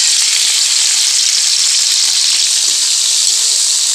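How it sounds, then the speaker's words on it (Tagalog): Meat frying in a hot pan for a home-cooked Filipino breadfruit dish, a loud, continuous bright sizzle with steady crackle and no voices. "Piprito natin guys yung ating karne."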